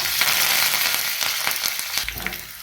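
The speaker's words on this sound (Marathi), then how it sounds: "हा तडका छान झालेला आहे" Tadka of cumin seeds, cut green chili and curry leaves spitting in hot oil: a loud, steady hiss with many small crackling pops throughout, close by and without voices.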